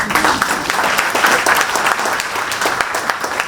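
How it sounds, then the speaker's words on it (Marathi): An audience at a Vastu and astrology lecture claps in dense, continuous applause with many hands at once, loud and even throughout, with at most a faint trace of voices. "उपाय तर टाळ्या वाजव"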